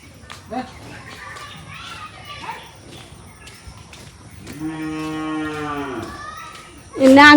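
Cattle lowing at a Bangladeshi livestock setting ahead of Eid al-Adha (Qurbani), one long harmonic moo rising clearly out of a murmur of children and people talking, followed by a louder burst at the end.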